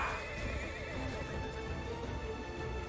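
A horse in a video game gives a loud, clear whinny with hoofbeat clip-clops beneath it, set among steady game music and ambience.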